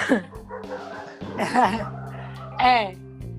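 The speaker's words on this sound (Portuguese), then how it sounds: "os cachorros aqui, eles chegam uma hora assim, parece que tá na hora de conversar" Several dogs bark and yip in short bursts, one whimpering, with a person talking over them and a brief chuckle.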